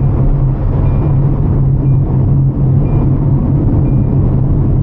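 VinFast VF 5 car accelerating on the Sentul International Circuit track, a loud steady engine and road rumble heard from inside the cabin, continuous and without talk.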